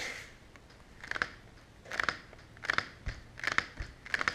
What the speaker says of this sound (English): it's the top skin I don't think stuck very good to the top side of the foam at all